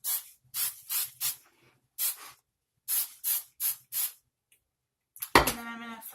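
Several short, bright hairspray bursts are sprayed onto freshly curled hair, set in irregular rhythm and close to the mic, followed by a louder sharper burst and a brief trailing sound at the end.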